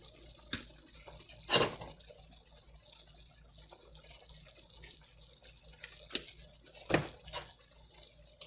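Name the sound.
soy sauce being poured onto white rice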